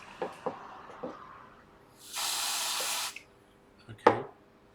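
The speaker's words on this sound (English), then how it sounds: "freeze spray this area" A single hiss of freeze spray onto an iPhone A1688 logic board lasting about a second, framed by a few faint clicks and taps, in a quiet room.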